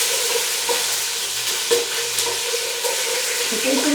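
Spices, dried red chillies and curry leaves frying over a slow flame in a pan for a Karachi-style pakora kadhi: a steady broadband sizzle with a few faint stirring scrapes, no talk.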